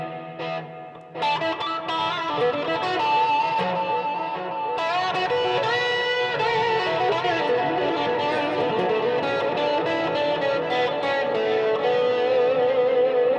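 An EarthQuaker Devices Silos delay pedal adds trailing echoes to a processed, effects-laden electric guitar that plays continuously and fairly loud, with repeats layering into a dense wash.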